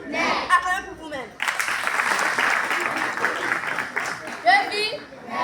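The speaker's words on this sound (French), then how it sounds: "Acclamez pour vous-même" An audience at a children's holiday storytelling and riddle workshop bursts into applause for itself, loud mixed clapping for several seconds between stretches of a speaker's voice and children calling out.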